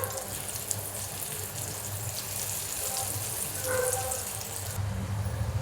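Kothimbir vadi, coriander fritters, frying in hot oil: a steady, fairly loud hissing sizzle runs throughout with soft crackles, lasting several seconds without a break.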